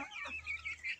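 Livensky marbled chickens, two months old, cluck and chirp softly at an evening feeding, a faint, brief burst of high calls with a low steady hum beneath.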